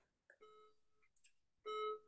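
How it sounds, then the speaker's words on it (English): An indoor fire alarm going off, sounding as a few short, quiet electronic beeps with a clear tonal ring, the last one the strongest, with no voices. "I've gotten the fire alarm going off."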